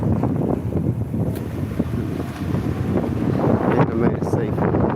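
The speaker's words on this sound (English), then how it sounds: "it's getting a little windy" Wind gusting steadily along a UK street right after a zebra crossing, a broad continuous roar buffeting the microphone throughout, with faint traffic and street noise underneath.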